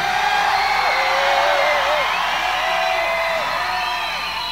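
Audience at a 1987 rock concert in Minneapolis: a loud, continuous wash of crowd screams, whoops and cheering, with wavering shouted tones rising over the roar.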